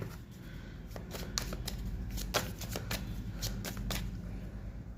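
Tarot cards are handled and shuffled close up, giving a quiet run of crisp riffling flicks and taps in a steady, uneven patter.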